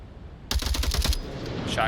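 Rapid bursts of shotgun fire in a competitive tactical shooter match ring out close and loud, five or six sharp blasts in quick succession, followed by a lower rumble of ambient game noise.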